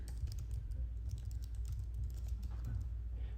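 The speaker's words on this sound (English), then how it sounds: "So you can type in your website here." Quick, light keystrokes on a computer keyboard tap out a website domain name in a soft, steady burst, close and quiet.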